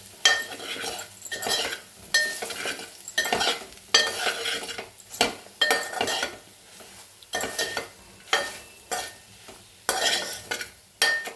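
A utensil stirs salt through bagara rice in a metal pot, giving repeated rhythmic scraping and clinking strokes with a faint sizzle underneath, close and clear with no talk.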